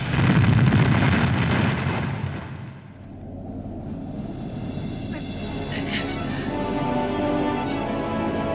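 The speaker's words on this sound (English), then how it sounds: "Explosions!" Explosions in Panzer Dragoon Saga open with a heavy, loud rumbling blast that fades after a few seconds, followed by sustained crackling noise and scattered sharper bursts under a dense game soundscape.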